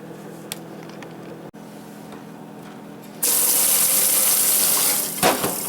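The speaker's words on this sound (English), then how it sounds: "At this point, I'm just putting some cold water into it," Cold water from a kitchen tap runs into a pot while beef tallow is being made, a quiet low hum first, then the faucet gushes on loudly and steadily at close range.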